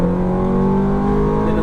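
Ferrari F430 engine pulling hard on a race track, a loud, steady harmonic engine drone holding a rising pitch through a short burst of acceleration.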